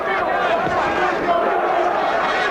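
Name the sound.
boxing crowd chanting a boxer's name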